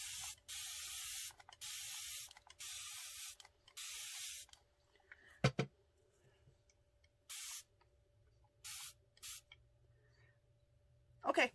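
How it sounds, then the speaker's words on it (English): A spray bottle mists in repeated short hissing bursts, several quick pumps separated by pauses, close and fairly loud against a quiet background. "then spray with water."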